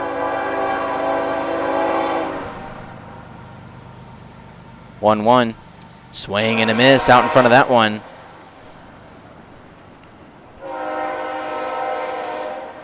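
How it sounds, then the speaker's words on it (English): A passing train's horn blows long sustained blasts near a minor league baseball game between the Boonville Lumberjacks and Oneonta Outlaws, heard at the start and again at the end, with an announcer talking in between. "the train coming over here behind me"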